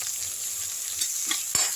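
Crushed garlic sautéing in a little oil in a pan for an onion-tomato thokku, a steady soft sizzle with light stirring scrapes and a sharper clink near the end.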